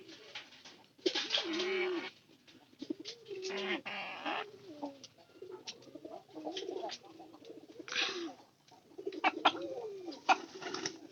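Pigeons coo repeatedly in bursts near the feeding spot, their soft throaty calls alternating with short quiet gaps, with faint chirps from other birds in the background.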